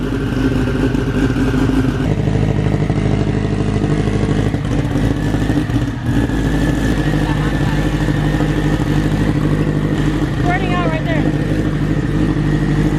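A Honda Civic drag car engine idles steadily throughout on dyno day, a loud, close mechanical rumble with some clattering, while people talk over it; it has a small fuel leak.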